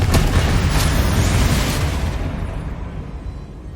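A heavy spell blast from Hogwarts Legacy booms loudly, a deep rumbling explosion that holds for a moment and then tails off into a fading roar.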